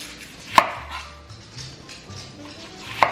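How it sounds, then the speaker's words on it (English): A knife slices a yellow onion thinly on a cutting board in a home kitchen, two sharp separate chops about two and a half seconds apart over quiet room noise. "we're gonna go ahead and thinly slice a yellow onion"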